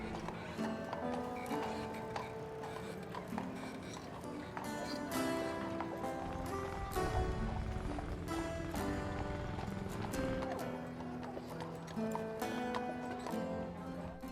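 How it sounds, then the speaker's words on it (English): Hooves of a horse pulling a horse-drawn taxi clip-clop steadily on a car-free street on Mackinac Island, heard amid music and a busy, continuous mix of surrounding sound. "a classic Mackinac Island horse-drawn taxi ride"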